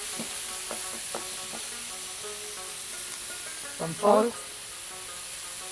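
Minced beef frying in a pan with browned onions, ginger garlic paste and cumin, a soft steady sizzle with a few stirring scrapes and a brief louder burst near the end, with a voice speaking briefly.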